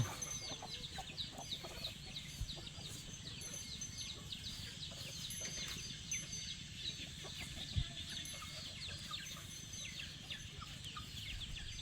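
Chickens cluck softly and intermittently in the background, with occasional rooster-like calls over a quiet outdoor ambience in rural Laos during rice planting.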